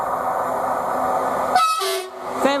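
A Greater Anglia Class 755 train running at Elsenham station sounds its horn in two short, loud, clear blasts close by, after a steady rumble from the train.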